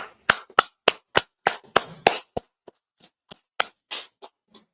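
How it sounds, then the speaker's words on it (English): Sharp hand claps ring out in a loose rhythm, about a dozen strokes that start strong and thin out into fainter, scattered claps near the end, close with no talking. "Clap it up."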